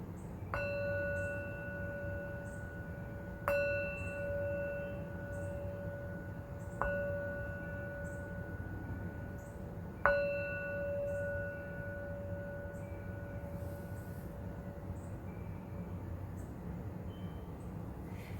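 Wind chimes heard through open windows, their clear ringing tones struck a few separate times and decaying slowly over faint outdoor background noise.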